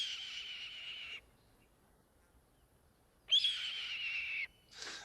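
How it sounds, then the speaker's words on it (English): A red-tailed hawk gives long, raspy, high screams: two drawn-out cries separated by a pause, then the start of a shorter third, heard alone and moderately faint. "The call of the red-tailed hawk is a call that you will hear in any movie that shows any kind of bird of prey."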